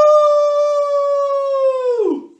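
A person's voice imitates a wolf howl: one long, loud, sustained and steady tone that drops and breaks into a short rough growl at the end.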